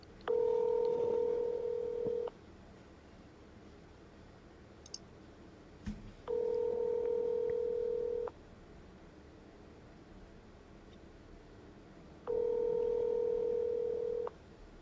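Telephone call tones during phone calling, three long, steady tone bursts of about two seconds each at even intervals, with a couple of faint clicks in the quiet gaps.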